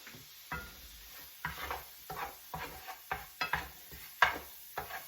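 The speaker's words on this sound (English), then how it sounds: "We're going to let that butter melt" Butter melting in a pan with Italian seasoning, a soft sizzle under a series of stirring scrapes and taps coming in uneven bursts about every half second, close and without talk.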